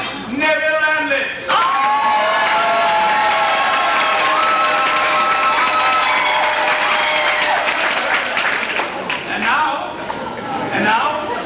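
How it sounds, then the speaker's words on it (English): A theatre audience at a 1989 community stage production of The Mystery of Edwin Drood breaks into loud, sustained applause with cheering and whoops that fill the room. "As you applaud this time, I would like you to rise as your candidates move forward."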